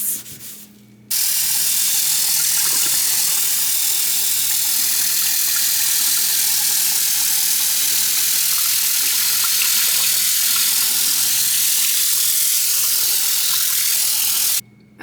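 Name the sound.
rinsing with running tap water after cleaning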